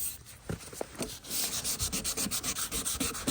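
Rhythmic back-and-forth scratching of 400-grit sandpaper on a Dodge Charger headlight lens, close up, starting with a few strokes and then settling into a quick, steady rhythm.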